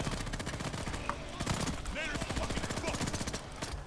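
Close, rapid video game gunfire in a rattling automatic stream fills nearly four seconds, loud and continuous, with a voice speaking beneath the shots.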